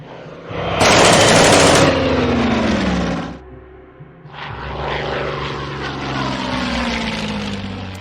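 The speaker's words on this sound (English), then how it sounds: "There's an airplane I want to kill down, I guess." A propeller warplane roars past in a naval combat video game, loud and close with rattling machine-gun fire, then drops away briefly before a steady droning engine returns.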